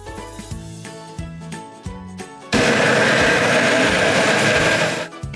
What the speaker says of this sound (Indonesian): Haluskan dengan blender.